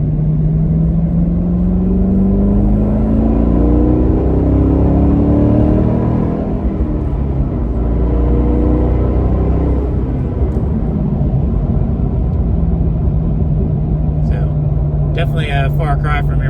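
Chevy SS sedan with a 6.2 liter V8 driving, a loud steady engine drone with rising and falling revs as it accelerates through gears, heard from inside the cabin.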